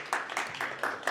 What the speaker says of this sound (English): can you please stand and we will recognize you by applause, please, our business connectors